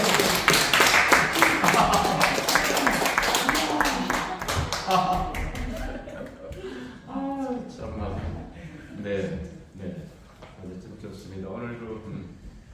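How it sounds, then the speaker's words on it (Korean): Audience applause and clapping at a speech event, loud and dense for the first several seconds, then thinning out as a speaker's voice takes over. "큰 박수 한번 주시기 바랍니다"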